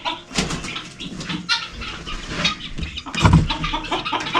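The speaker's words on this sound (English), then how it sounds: "And here's a pen of guineas," Guinea fowl and chickens in farm pens cluck and call in a busy, overlapping chatter, fairly close, with a louder burst of squawking near the end.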